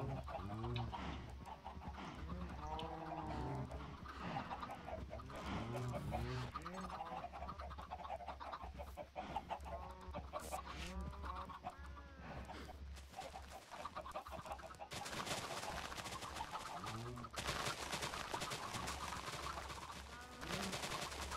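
Chickens in a Minecraft modpack (FTB Plus) cluck repeatedly in loud, rhythmic bursts with harsh static-like game noise bursts toward the end; speech may be faint underneath.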